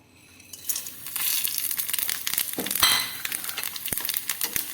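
Whole fennel, cinnamon, cloves and pepper dry-roasting in a pan for a crab roast masala, with a steady crackling rustle and scraping stirs, close and moderately loud, no talking.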